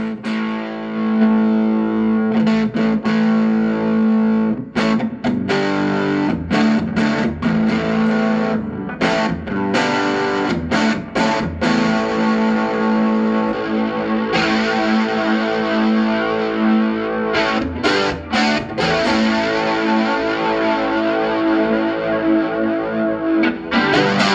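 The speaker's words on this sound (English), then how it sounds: "It does have a distortion channel. I'll give you a little shot of that." An electric guitar plays through the distortion channel of a 1980s Roland Jazz Chorus JC-77 solid-state 2x10 amp, sustained crunchy chords and riffs ringing continuously with a few brief pauses.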